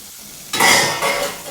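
Capsicum frying with onion and tomato in a pan for mushroom masala, quiet at first, then a sudden loud, close sizzle with a stir that surges again about half a second later, with no talking.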